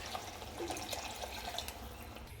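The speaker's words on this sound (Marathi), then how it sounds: "तर ह्यामध्ये आपण पाणी ॲड करून घेऊयात." Water poured into a pan of Bhogi mixed-vegetable curry, a steady close trickle and splash running for the whole span with small drip-like accents and no talk.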